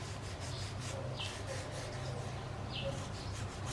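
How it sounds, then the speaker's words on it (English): A cloth rubbing finish into a small wooden box, a soft continuous close scrubbing sound with faint brief squeaks over steady low background noise. "And then I like to use a cloth. And you just rub it in."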